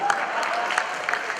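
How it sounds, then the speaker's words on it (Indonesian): An audience at a stand-up comedy show claps in a brief, steady burst of applause with crowd murmur, heard close and moderately loud. "Tepuk tangan buat Surya."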